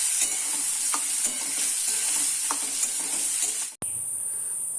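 Jackfruit seeds and chopped onions with tomato frying in a pan of oil, a continuous bright sizzle with occasional stirring scrapes, close and steady before cutting off abruptly near the end.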